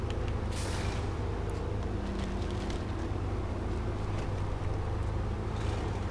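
A truck driving off-road in the SnowRunner video game, a steady low engine drone with rumbling texture and occasional hissing bursts, continuous and fairly loud, no voices.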